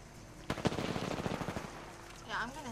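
Automatic gunfire in the Apex Legends video game, a fast burst of about a dozen sharp rounds lasting about a second, loud and close, followed by a voice speaking.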